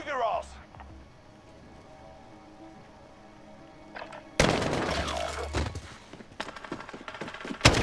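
Gunfire in a shooter video game bursts in loudly midway, dense rapid shots with thuds and crackles, after a quieter stretch; a voice talks faintly early on.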